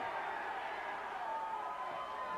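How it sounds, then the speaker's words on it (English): Wrestling crowd cheering for Dr. Death during a televised UWF match, a sustained, distant roar of many voices at low level without clear breaks. "Fans cheering Dr. Death on."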